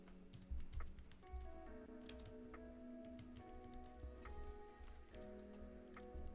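Light keystrokes tap on a computer keyboard in scattered, uneven clicks, faint and close, over a soft steady background hum.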